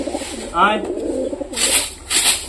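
Giribaz pigeons give soft, rhythmic low coos close by, repeating through the clip, while a person talks over them and brief brighter noises break in.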